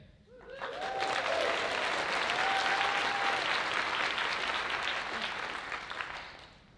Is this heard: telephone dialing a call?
no